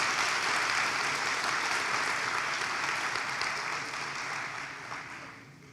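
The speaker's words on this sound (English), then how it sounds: "So I just want to give her another round of applause" Sustained audience applause at a SAYS 2023 event, a dense even roar of many hands that holds steady, then gradually thins and fades toward the end, with no voices over it.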